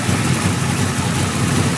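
A 2002 Camaro SS 35th Anniversary with a stock LS6 V8, LS6 intake and throttle body, and headers, running untuned in a loud steady rumble close by, with no speech.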